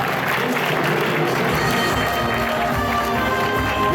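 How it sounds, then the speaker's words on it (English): Applause and some cheering from a convention audience for a pair of game-show contestants at an anime quiz event, a steady dense wash of clapping mixed with crowd noise that fills the whole stretch. "Let's give him a round of applause, those guys."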